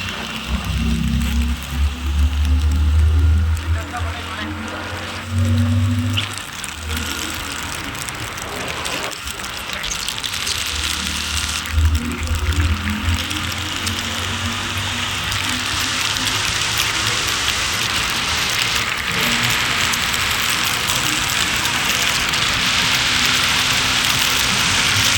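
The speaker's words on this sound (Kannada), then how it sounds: "ಮಳೆ ಬೀಳ್ತೈತೆ" Steady rain falls outdoors during a trip to the Sigandur temple, a dense broadband hiss that holds for the whole stretch, loud and close, with some low rumbling early on and brief bursts that may be passing traffic.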